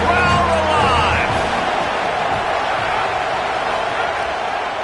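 A stadium crowd roars steadily through a red-zone third-down play at an OSU versus Indy football game, the dense cheering sustained and loud with a commentator's voice running over it.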